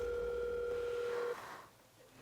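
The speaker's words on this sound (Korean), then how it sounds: "작은 이모한테 전화를 거셨어요." A telephone dial tone holds steady and clear for over a second, with a second higher tone alongside, then cuts off to quieter line noise as the call is placed to an aunt at home.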